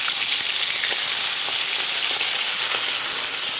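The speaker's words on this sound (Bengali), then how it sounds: "দেখো তেলটা গরম হয়ে গেছে, এবার মাছগুলো এক এক করে দিয়ে দেবো।" Bata fish frying in hot oil make a dense, steady sizzle with faint crackles and pops throughout, close and loud, with no voices.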